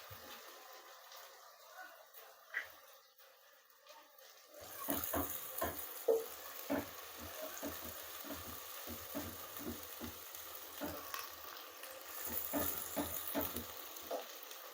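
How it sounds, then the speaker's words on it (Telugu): Chicken curry masala for country-chicken stew frying in a pan: a quiet start, then a sudden louder sizzle with repeated scraping stirs and crackles, close and continuous. "బాగా వేగాలి, పచ్చివాసన పోయేలాగా వేపేసుకున్నాక"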